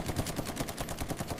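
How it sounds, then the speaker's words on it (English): Rapid automatic fire from an M230 Chain Gun, the 30mm cannon on an Apache attack helicopter, a steady burst of closely spaced reports running continuously with no gaps and no speech. "The M230 Chain Gun"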